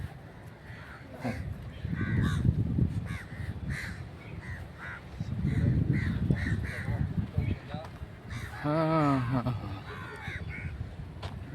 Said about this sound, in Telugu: ఇక్కడ కాకులు కూడా వాళ్ళు వీళ్ళు ఆహారం వేస్తారు అనుకుంటా, అందుకని ఏం చేస్తున్నాయంటే చక్కగా మాట్లాడుతున్నాయి